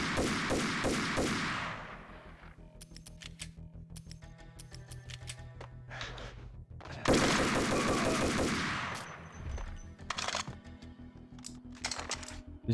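Gunfire in the video game Max Payne, with rapid bursts of automatic shots and single cracks coming in clusters, loud and close, separated by quieter stretches of echoing reports.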